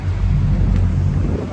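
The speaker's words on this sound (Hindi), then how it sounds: "लिटरली क्या ही हवा चल रही है भाई" Strong wind blowing across a ship's deck in London, a loud, continuous rumbling buffet on the microphone that stays dense and steady throughout, with no talking.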